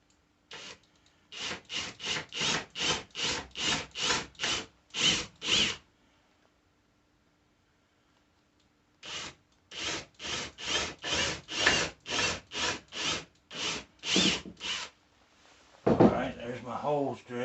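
Power drill boring holes into a wooden bottom board for a .22 LR spinner target base, two long runs of rapid, evenly pulsing bursts separated by a quiet pause, close and fairly loud, with a brief rougher scrape at the end.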